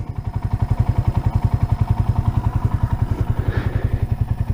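A rebuilt 1978 Kawasaki KL 250 single-cylinder motorcycle idles close by, a loud, even, rapid thumping putter with steady rhythm throughout and no talk.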